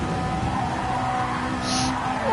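A race car at the Nürburgring GP circuit in a racing video game, sliding from a small drift into a bigger one, its steady engine drone joined by a short high tire hiss near the end, with faint talk underneath.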